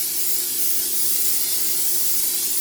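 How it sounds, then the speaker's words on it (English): A steady, close hiss of cooking oil spray onto a pan, held for a few seconds, bright and continuous without pauses. "Just spray it."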